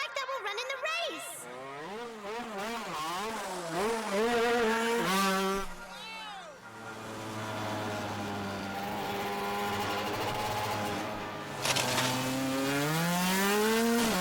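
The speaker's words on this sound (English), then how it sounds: "And here's the bike that will run in the race." Racing motorcycle engine in an anime film scene, revving with rising and falling whining pitch, loud and close, then settling into a steady drone before revving up again, with no talk.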